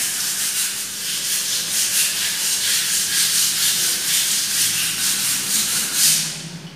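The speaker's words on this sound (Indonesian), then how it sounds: "gunakan amplas nomor 340 untuk menggosoknya." Paint being sanded with number 340 sandpaper gives a steady, close scraping rasp with a quick back-and-forth rhythm that runs without a break for several seconds and then eases off at the end.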